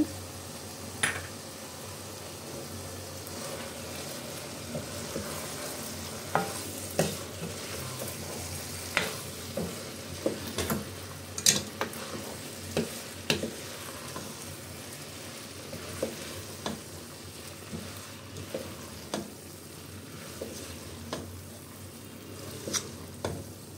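Brinjal and mochai beans frying in sesame oil for a Madurai Meenakshi Amman temple prasadam, with a steady soft sizzle and repeated scraping stirs of a spoon against the pan.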